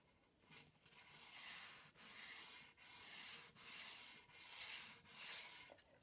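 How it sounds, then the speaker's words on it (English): Rhythmic back-and-forth scratching of sandpaper wrapped around a block, rubbed by hand over a wooden box finish, six or seven even strokes with brief pauses, close and fairly quiet. "wrap the sandpaper around that to keep a more even surface while you're sanding"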